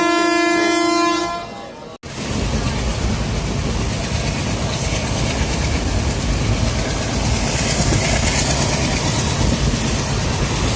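A passenger train on the Udalguri to Nalbari line sounds a loud, sustained horn that cuts off, followed by continuous close rumbling and rattling of the carriages rolling along the track.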